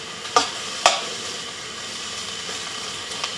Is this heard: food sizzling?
yes